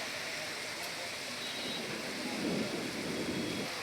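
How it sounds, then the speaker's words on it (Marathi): Heavy unseasonal rain pours down in Solapur, a dense, steady hiss and roar that continues without break, with a slight low swell partway through. "आज पाऊस सोलापूरमध्ये जोरात चाललेला आहे."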